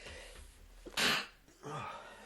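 A single sharp sneeze bursts out loud and close in a podcast conversation, followed by a shorter breathy sound, with quiet talk around it.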